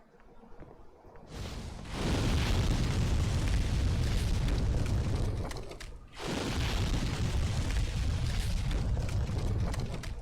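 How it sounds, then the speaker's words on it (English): A video game dragon breathes fire in two long roaring blasts, a sustained broadband rush that swells in, cuts briefly around midway, then surges again at full loudness. "we have to trigger the dragon ourselves to blow fire"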